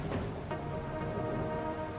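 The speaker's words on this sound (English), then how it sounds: "Raining lightly." Light rain falls in the video game Dustland Delivery, a soft, steady patter heard faintly and alone with no talking.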